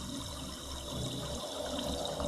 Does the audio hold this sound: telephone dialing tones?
no